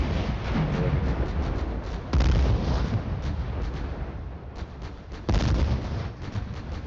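Units fire in a strategy video game, with a dense rumbling stream of gunfire and booms that swells sharply twice, steady and loud with no talk.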